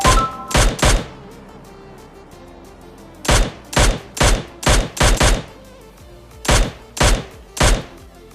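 An SMG fires in the mobile shooter game PUBG Mobile Lite, with loud, close bursts of rapid shots: a few quick cracks, a pause, then longer clusters of evenly spaced shots separated by brief silences.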